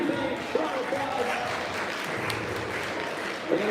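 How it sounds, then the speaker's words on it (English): A school audience at a Poetry Out Loud event claps for a staff member, a dense steady wash of applause with a voice audible over it. "Round of applause."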